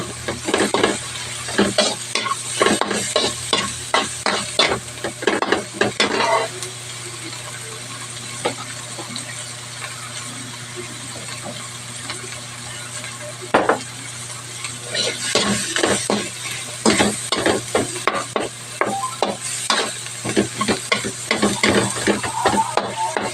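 Onions sautéing in a pan for a mixed vegetable stir-fry, a continuous close sizzle broken by bursts of stirring and utensils scraping against the pan.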